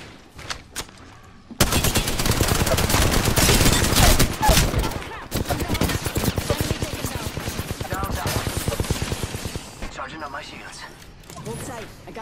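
Video game gunfire in rapid, sustained automatic bursts, loud and close, lasting several seconds with brief gaps, while people talk over it.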